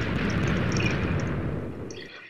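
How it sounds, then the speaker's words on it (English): Fireworks going off in a video game make a loud, dense, continuous crackling rumble that fades slightly toward the end, with no talking. "On your end, it actually sounds like fireworks for some reason"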